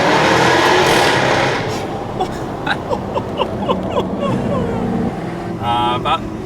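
A Jaguar F-Type R engine roars loudly while driving, then settles to a lower rumble beneath people talking inside the car.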